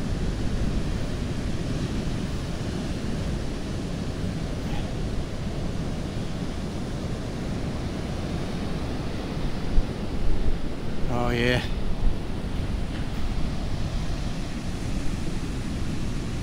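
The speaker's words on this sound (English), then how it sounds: "Oh, look at that wave." Wind and breaking sea waves on a Cornwall beach near Land's End, a steady broad roar of surf and gusting wind throughout, with a brief voice speaking near the middle.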